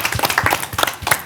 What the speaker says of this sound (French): On applaudit Guy Flavien.